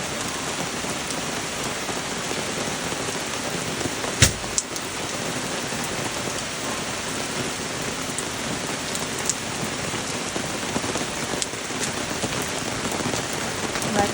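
Heavy rain pours steadily at a campground, a dense even hiss drumming on surfaces with one brief sharper knock partway through and no voices.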